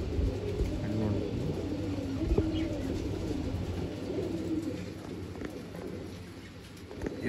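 Tournament pigeons coo in low, repeated throaty murmurs from close by in a loft setting in Bangalore, with people talking faintly in the background.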